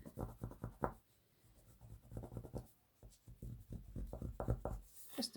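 Fingers rubbing and pressing down small paper bumps on a handmade traveler's notebook, a series of close, soft scratchy strokes in bursts with short pauses between.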